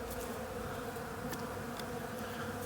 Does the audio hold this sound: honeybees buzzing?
yes